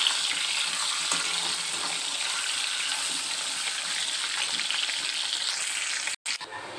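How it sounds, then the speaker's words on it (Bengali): Fish frying in hot oil and being turned over in the pan: a constant, close, loud crackling sizzle that breaks off for a moment near the end, then resumes. "উল্টে পাল্টে দুটো সাইড ভালো করে ভেজে নেব"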